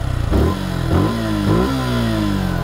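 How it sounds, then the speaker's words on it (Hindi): A Suzuki Gixxer SF 150 motorcycle revs up in three quick bursts, its exhaust rising in pitch each time, then settling into a steady, fairly bassy drone, close by and alone. "एक्सेलरेट करने पे काफ़ी ज़्यादा बेसी है इसका एग्जॉस्ट।"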